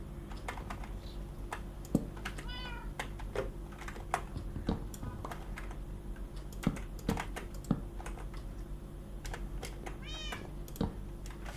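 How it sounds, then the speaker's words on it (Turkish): A cat meows twice in the background, faint and far, while computer keyboard typing and clicks clatter steadily up close. "Kedimizin sesi."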